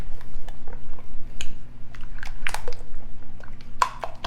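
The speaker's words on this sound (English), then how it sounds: "Okay, just mixing this together really well." A spoon works through shredded tricolor cabbage and mayonnaise for a casserole, giving a run of close, wet, squishy crunches and scrapes at an uneven rhythm.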